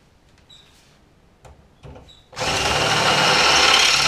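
A power tool, such as a drill, unbolts a spring hanger bracket during a Harbor Freight axle swap. Faint clicks and taps give way to a sudden loud, steady whirring roar that runs to the end.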